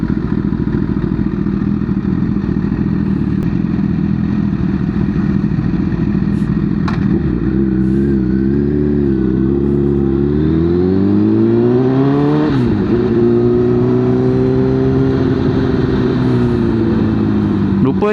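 A Honda CBR1000RR SC77 superbike ridden on a roadside street, its engine droning steadily up close with rising and falling revs as it pulls away and shifts, wind and clatter mixed in throughout.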